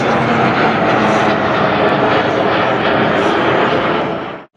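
Military aircraft roar overhead at the MCAS Miramar air show, a loud, steady broadband engine rush that holds throughout and then cuts off abruptly at the end.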